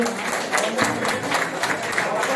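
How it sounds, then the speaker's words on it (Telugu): An audience claps continuously through a mass birthday celebration, a moderate, steady patter of many hands with voices mixed in under it. "చప్పట్లు కొట్టాలి సార్, చప్పట్లు"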